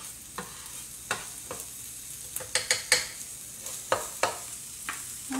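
Eggs with cheese and peppers frying on a griddle, a steady soft sizzle with a run of sharp scrapes and taps as they are stirred and turned, close and alone.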